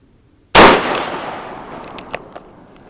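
A single sharp, loud rifle shot from a 6.5 Grendel firing a 120gr Speer Gold Dot load cracks close by, then rings and decays over about two seconds with faint metallic ticks.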